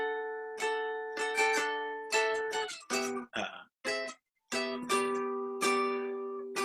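Bright guitar chords are strummed in short rhythmic bursts with brief gaps and choppy muted strokes between, close and moderately loud with no talking.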